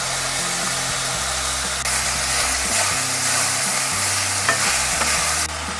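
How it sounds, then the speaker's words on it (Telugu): Tomato pieces with a pinch of salt are stirred in a sizzling pan for Indian-style pasta, a loud continuous frying hiss with scraping spoon strokes throughout, close up. "కొద్దిగా సాల్ట్ టమోటా ముక్కలు బాగా మెత్తబడేంత వరకు కలుపుకోవాలి"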